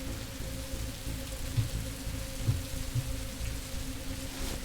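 Steady rain hisses in a thunderstorm in Rising World, with a low constant hum beneath and a few soft muffled thumps of distant thunder scattered through.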